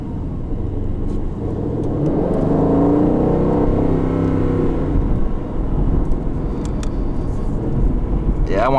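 A 2020 Aston Martin Vantage engine in track mode revs up loudly in a rising, aggressive surge from inside the cabin, then eases off, with a voice briefly talking over it near the end.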